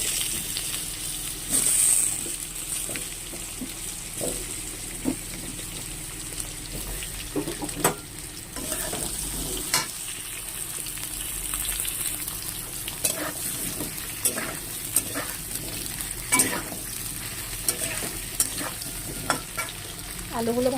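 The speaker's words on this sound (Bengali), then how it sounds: "আলুগুলো ভালো করে ভেজে নেব।" Potatoes fry with cumin seeds in hot oil, giving a continuous close sizzle punctuated by repeated sharp clicks and scrapes of a spatula stirring in the pan.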